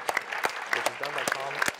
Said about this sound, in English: Give a big round of applause if you like open source JavaFX.